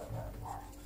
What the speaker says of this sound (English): Dogs are starting now as well.